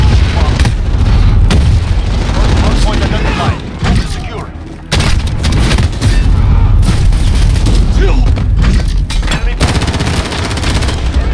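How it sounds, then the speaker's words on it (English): Heavy booms and explosive blasts from a grenade in the Call of Duty Modern Warfare 2019 video game, set amid steady gunfire during a Hardpoint match; loud and dense throughout with a brief lull, with a player's voice underneath. "Grenade out!"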